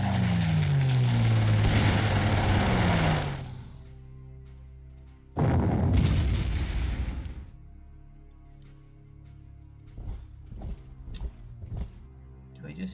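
Artillery booms in the World War II strategy game Panzer Corps, with two heavy, rumbling blasts that each roar for a few seconds, then quieter scattered thuds.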